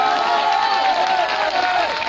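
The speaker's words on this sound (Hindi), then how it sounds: "तालियां लगा के स्वागत करिए" Audience at a ghazal or poetry gathering clapping and cheering in welcome of a young performer, a dense, steady wash of applause and crowd noise throughout, with some voices mixed in.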